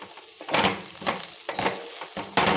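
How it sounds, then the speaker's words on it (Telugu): Green beans coated in chili powder fry in a pan while being stirred, making close, rhythmic bursts of sizzling and scraping that come roughly every half second. "ఒకసారి ఫ్రై చేద్దాం. కారం మొత్తం ముక్కలు పట్టాలి."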